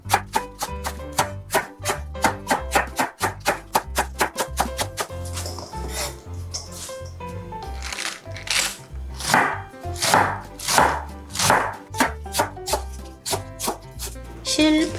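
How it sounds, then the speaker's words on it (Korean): A knife julienning cabbage on a cutting board for a kimchi-style side dish, starting as a fast run of sharp, evenly spaced chops, then giving way to talk with only scattered cuts beneath it. "옆으로 채를 썰어주세요."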